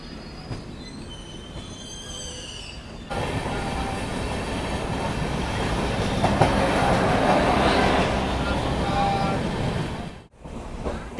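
The Rapti Sagar SF Express (Gorakhpur to Thiruvananthapuram North) running on rails, a loud, sustained rumble of wheels on track with squealing and rhythmic clatter, preceded by quieter ambience with birdsong and cut by a brief dropout near the end.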